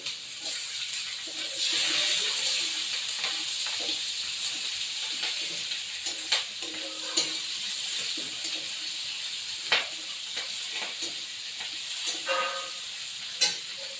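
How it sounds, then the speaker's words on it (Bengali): Chopped onion and green chili fry in a pan with five-spice seeds for a fish roe, potato and pointed gourd curry, a continuous sizzle broken by scattered clicks and scrapes of stirring. "পেঁয়াজ কুচি তুলে দেবো আর লঙ্কা কুচি দিয়ে দেবো।"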